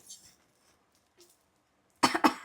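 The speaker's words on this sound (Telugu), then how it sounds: "దగ్గు వచ్చేస్తుంది" A short burst of harsh coughing at the end, brought on by chili while cooking, close and loud, after near silence with a faint breathy sound.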